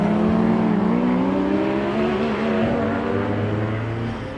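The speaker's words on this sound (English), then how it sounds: "I'll let you listen to this Porsche." A Porsche rally car climbs a hill on the SS23 Mt Lofty stage, its engine loud and close, revving steadily with rising and falling harmonics. The sound fills the whole stretch without talk.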